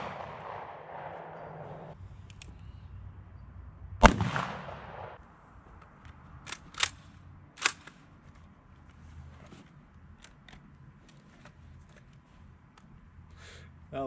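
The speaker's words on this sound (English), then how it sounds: "I'm going to be firing at the door from a distance of about 6 yards." A .44 Magnum fired at a car door from about six yards: one loud, sharp blast rings out over a low background, followed by a couple of fainter, shorter cracks.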